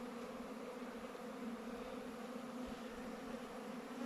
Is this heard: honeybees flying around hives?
yes